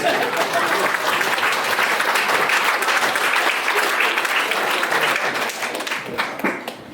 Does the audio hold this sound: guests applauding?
yes